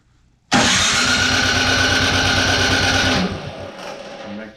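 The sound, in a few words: Troy-Bilt Storm snowblower engine starting and running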